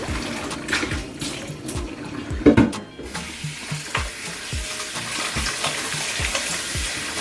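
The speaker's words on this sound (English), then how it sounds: "I will just change the water" Tap water runs into a pot as peas are rinsed for Jamaican stew peas, a steady splashing gush with clinks and knocks of the pot throughout, briefly louder midway.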